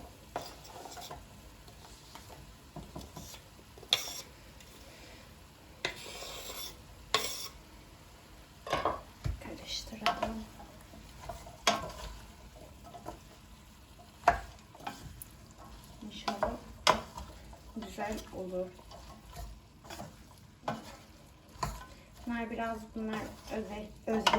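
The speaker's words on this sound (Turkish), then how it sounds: "Evet, şimdi patateslerimi koyacağım." Potatoes going into a hot pan with hot peppers already frying: a continuous sizzle broken by the clatter and scrape of a utensil stirring, with a voice speaking now and then.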